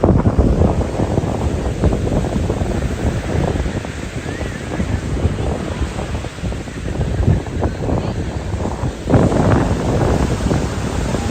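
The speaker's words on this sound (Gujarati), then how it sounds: "દરિયાના મોજા તો વધતા જ જાય છે." Sea waves roll and crash onto Somnath beach in Gujarat, a loud continuous roar of surf mixed with gusting wind buffeting the microphone, with no talking.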